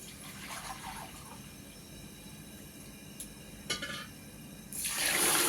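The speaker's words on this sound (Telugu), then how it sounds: "గిన్నె నిండా నీళ్ళు పోస్తున్నానండి" Water is poured into a cooking pot while making sugar syrup for motichoor laddu: a quiet room with faint clinks gives way near the end to a loud, steady gushing fill.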